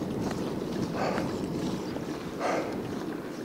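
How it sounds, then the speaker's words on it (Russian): Strong headwind buffets the microphone during a bicycle ride, a loud rushing roar with gusts swelling near the start and again around the middle, no voices. "Ох, ветер дает прикурить."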